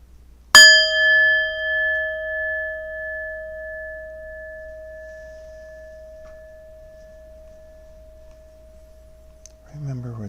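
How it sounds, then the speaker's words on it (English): A single meditation bell is struck once and rings out with a long, clear, slowly fading tone over several seconds. Near the end a voice begins to speak. "hopefully you can hear this bell"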